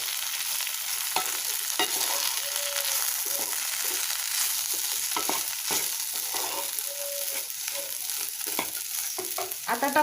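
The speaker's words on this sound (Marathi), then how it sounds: "आता आपण ह्यामध्ये जे मी रात्री भिजवला होता तो शाबू आणि त्यामध्ये मी शेंगदाण्याचं कूट मिक्स केलंय" Soaked sago and crushed peanuts are stirred together, giving a steady run of soft scraping, clicking stirs throughout, fairly close with no voices.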